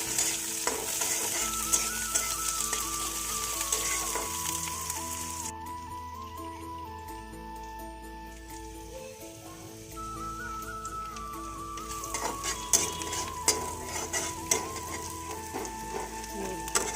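Chopped onion and chili frying with cumin in a pan, a steady sizzle with stirring clatter throughout, quieter in the middle, with a low background hum and faint tonal sounds.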